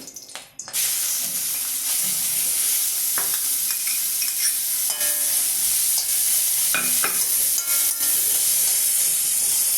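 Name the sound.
carrots frying and being stirred in ghee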